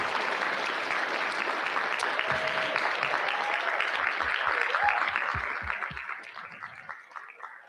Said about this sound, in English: a round of applause for our candidates